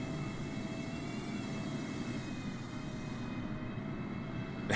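A Boeing 747 in Microsoft Flight Simulator flies low and slow, giving off a faint, steady engine drone with a soft whine and no talk over it.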